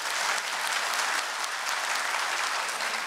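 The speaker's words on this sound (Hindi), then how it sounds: "ताली बजाओ मोदी जी के लिए एक बार।" A crowd at a Swami Ramdev event in Patna, Bihar applauds steadily throughout, a dense, continuous clapping that stays even in loudness.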